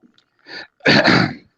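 A man lets out a loud, close sneeze in two bursts: a short gasping intake, then a forceful explosive release that tails off into silence.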